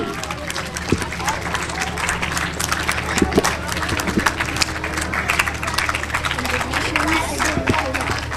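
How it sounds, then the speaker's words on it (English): Applause from an audience at a 2021 school Urdu speech competition, dense steady clapping filling the whole stretch with crowd noise, moderately loud and close. "Do loud clap for Mehroz Ali."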